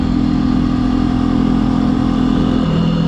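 A 2021 Benelli TNT135 motorcycle engine running steadily: a loud, continuous, close-up mechanical drone with no talking and no change in pace.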